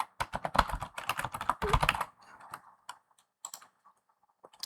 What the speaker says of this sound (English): So I'm going to type in the email address of the external user.